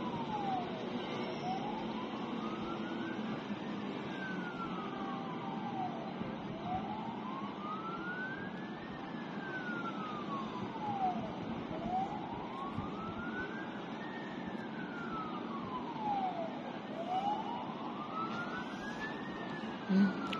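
Emergency vehicle siren wailing near a hospital, its tone sweeping up and down in steady, repeated arcs for the whole stretch over constant city traffic noise, fairly distant and with no talking.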